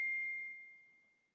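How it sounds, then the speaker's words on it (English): A single phone text-message notification ding, a clear bright tone that rings out and slowly fades away in otherwise quiet surroundings. "I'm getting a text message."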